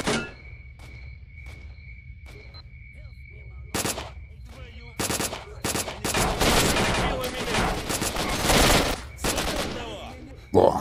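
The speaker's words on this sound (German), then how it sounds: "Jojo, ich bin da sehr gut drin, in daneben schießen" Gunshots in the shooter game S.T.A.L.K.E.R.: Shadow of Chernobyl, scattered single cracks at first, then rapid bursts of automatic fire, loud and close, with someone speaking German in between.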